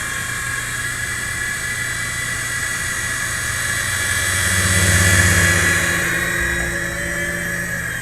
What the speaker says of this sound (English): this is a pretty decent helicopter